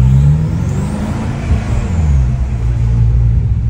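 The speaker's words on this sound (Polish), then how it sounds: "Fajnie to turbo słychać." Cars at the Nürburgring Nordschleife pass close by with loud engine rumble and revving, and a faint turbocharger whistle rides over the low roar. The noise stays steady for the whole stretch, with no talk.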